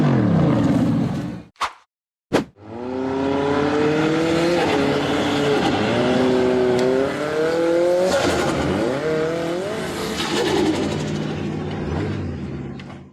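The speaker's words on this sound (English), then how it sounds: "The red buggy with a white frame accelerated hard to conquer the extremely steep sand dune" A red off-road buggy with a white frame climbs an extremely steep sand dune, its engine revving hard and loud in a sustained, rising whine with gear-like pitch shifts, close and continuous for over ten seconds after two brief cut-off bursts.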